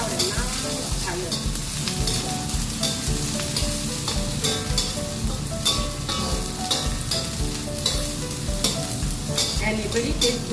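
Dried chilies fry in oil for a keerai curry, a loud, dense sizzle with constant crackling and stirring clatter, close up throughout with no talking.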